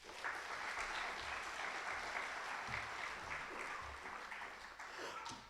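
Steady audience applause for a group of counselors at a live talk event, dense continuous clapping filling the room at an even level for several seconds with no voices over it.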